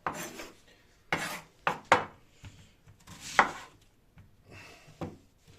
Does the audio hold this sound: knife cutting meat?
yes